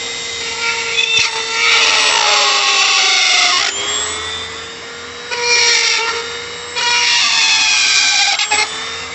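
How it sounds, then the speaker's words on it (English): A power drill bores holes into a homemade compost bin, with loud whining bursts that rise and bog down as the bit bites in, broken by short pauses between three runs. "So we're going to drill in."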